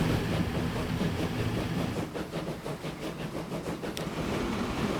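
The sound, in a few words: passenger train in video game Transport Fever 2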